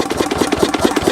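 A loud diesel engine running close up, a steady rapid thumping chug with an even knocking rhythm and no voices.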